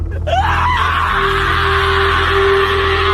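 A man screaming inside a haunted mirror, a sustained, loud, strained yell that holds steady for several seconds over a low droning background, sounding trapped and desperate.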